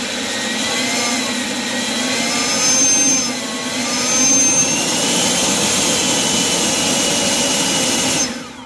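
A loud, steady electric whooshing roar from an AiDot Enhulk 930 battery leaf blower run on its variable-speed trigger, rising and easing slightly in intensity, running continuously before cutting off at the end.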